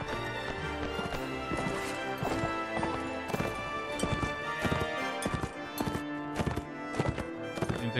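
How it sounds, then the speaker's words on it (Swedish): Horses gallop across a medieval battlefield in the Mount & Blade game, a loud, dense drumming of hooves with repeated clip-clop thuds and an occasional whinny, close and continuous. "Åh, det är hästisar."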